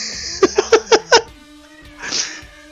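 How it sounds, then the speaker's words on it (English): A cat in a room gives a quick series of five short, loud, near meows, then a softer drawn-out cry a moment later. "You let the cat in!"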